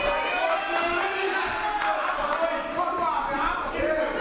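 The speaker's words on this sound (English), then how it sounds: "The crowd seems to be supporting Jeremy." A boxing crowd at a fight night cheers and murmurs steadily in the background, a broad, diffuse roar under continuous commentary.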